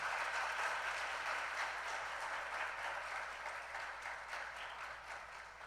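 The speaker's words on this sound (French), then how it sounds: "Des applaudissements pour ces deux établissements" An audience at a school quiz show applauds steadily for two competing colleges, a dense, even wash of clapping that fades slightly toward the end.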